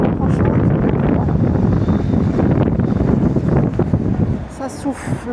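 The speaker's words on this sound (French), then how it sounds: "Ça souffle fort." Strong, cold wind in Portugal buffets the microphone in a loud, continuous roar that holds steady throughout.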